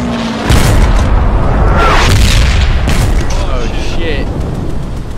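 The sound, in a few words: artillery explosions in the video game Hell Let Loose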